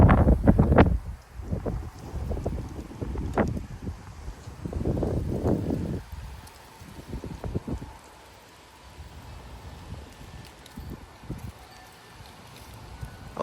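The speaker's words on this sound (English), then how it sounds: "we're just getting some 30-mile-per-hour gusty winds right now" Gusty 30 mph wind buffets outdoors at night in Frisco, Texas, with loud rushing bursts and rustling that surge and ease in uneven waves, close to the microphone.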